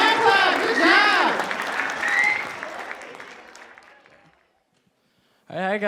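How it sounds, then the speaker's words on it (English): An assembly audience claps loudly and steadily, the applause fading out over several seconds into near silence before a voice begins speaking at the end. "give them a hand clap"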